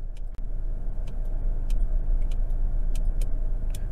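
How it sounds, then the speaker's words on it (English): Interior of a 2021 Chevrolet Equinox LS with the lamp control switched on, a series of sharp, faint high-pitched clicks ticking at irregular intervals over a low idling engine hum. "there's a real high-pitched click from the left rear"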